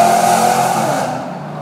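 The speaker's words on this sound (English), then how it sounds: "That's an impressive car motor right there" A powerful car motor revs hard, a loud, close, sustained engine roar that holds steady and then gradually eases off, with no talking.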